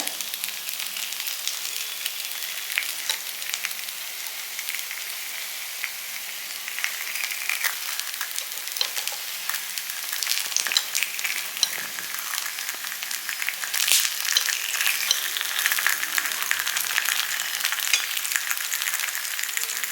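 Sago and millet-flour paniyaram fry in a pan with a steady, close, hissing sizzle that continues without a break, with faint crackle and occasional small spatter.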